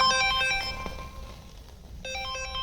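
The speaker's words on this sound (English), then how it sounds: "customer's phone is now triggering to tell us the alarm is triggering" Close, loud electronic ringtone from a phone alerting that a Starline S9v2 car alarm on a Ford Escort Cosworth is triggering, plays a tonal melody, fades briefly into a pause, then starts up again.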